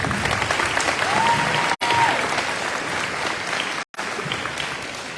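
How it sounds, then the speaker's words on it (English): Steady, loud applause fills a high school athletic banquet hall as the audience cheers an athlete, dense clapping with faint crowd murmur and two abrupt dropouts. "So give Evan Galvan a big round of applause"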